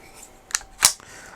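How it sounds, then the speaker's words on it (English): Ruger Mark pistol being handled: two sharp metallic clacks as the slide is pulled back and the bolt locks open, close and crisp in a quiet room. "as I pull the slide back, it lifts up, and then that will lock the bolt back"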